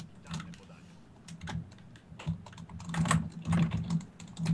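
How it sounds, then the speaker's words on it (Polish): A computer keyboard is hammered hard during a FIFA 16 gaming session, with uneven bursts of rapid, clattering keystrokes close by and faint voices in the background. "Ale tamten w klawiaturę napizdża."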